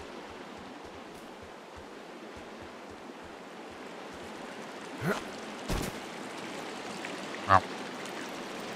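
Water in the Firewatch video game gives a steady broadband rush like a flowing stream, continuous and moderately loud, with a few brief knocks and a short spoken word over it.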